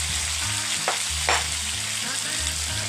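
Kare-kare with beef skin is stirred in a pan, a continuous sizzle with two brief scraping strokes partway through under a low steady hum.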